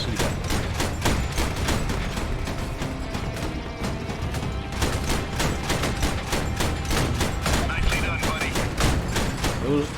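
Turret gunfire in the vehicle combat game Crossout, a dense, continuous barrage of rapid shots and crashing impacts rolling on for the full stretch at steady loudness.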